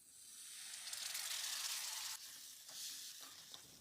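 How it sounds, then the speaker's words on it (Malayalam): Vinegar poured into roasted spice powders with fenugreek for a date pickle, a sudden bright hissing sizzle that swells, then eases into softer crackling and a few stirring scrapes, close and alone without talk. "അതിനുശേഷം 3 ടേബിൾ സ്പൂൺ വിനെഗർ ഒഴിച്ചു കൊടുക്കാം."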